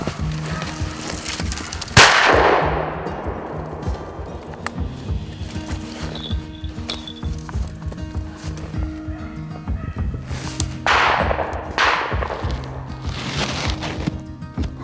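Loud sharp gunshots from a rabbit hunt with beagles ring out in open country, one near blast followed later by two more in quick succession, with faint mechanical clicks and background hiss between them.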